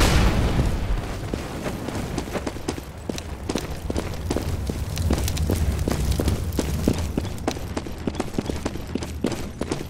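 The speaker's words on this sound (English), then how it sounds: "Flashbang." A flashbang grenade goes off in the CS:GO shooter game, a loud burst at the start followed by a dense, rapid run of sharp clattering impacts and footstep-like clicks.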